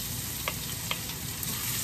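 Fried rice (sinangag) frying in a pot, a steady close sizzle with a few light stirring clinks, no talk.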